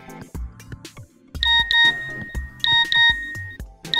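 A mobile phone rings indoors with a loud, bright electronic melody of repeated beeping tones that start after a short bit of other noise and carry on to the end without any speech.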